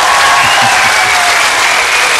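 Loud, steady applause from a large television game show studio audience, a dense wash of clapping filling the whole moment without a break.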